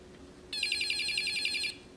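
An electronic canary circuit built with a 555 timer, resistors and jumper wires lets out a single bright, rapidly warbling chirp of about a second, fairly loud against a faint background hum.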